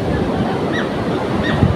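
Strong waves at a seashore where fishing boats are pulled up on the beach, heard as a loud, continuous close-up roar of surf with no gaps.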